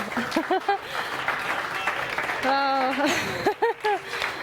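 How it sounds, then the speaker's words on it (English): A dinner audience gives a standing ovation, clapping steadily in the background while voices speak clearly over the applause. "Let's give this girl a standing ovation"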